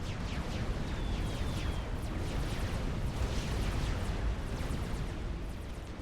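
Bombing run explosions in Supreme Commander: Forged Alliance, a dense, continuous rumble of overlapping blasts and crackling bursts, steady and moderately loud for several seconds with no voices.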